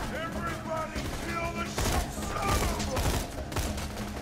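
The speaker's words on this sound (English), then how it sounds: "let's open fire." Burst-fire weapon shooting in Borderlands 2, rapid clustered shots repeating over a few seconds amid game sound effects, with a voice speaking at moments.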